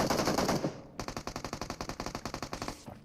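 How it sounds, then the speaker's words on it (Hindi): Rapid automatic gunfire from a firefight in the mobile battle royale game BGMI (Battlegrounds Mobile India): a dense burst of shots, a brief gap, then a steady fast rhythm of loud, close shots with no talk over it. "पता नहीं कहाँ से फायरिंग आ रही है"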